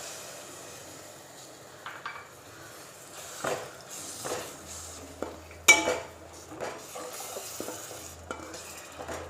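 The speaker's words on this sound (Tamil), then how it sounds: "இதில் நம்ம தேங்காய் பால் சேர்க்க போகிறோம்" Coconut milk goes into a sautéed chicken gravy base in a pan, and a spoon stirs it. Scraping and stirring come with light clinks against the pot and a gentle sizzle, close by, with no talking.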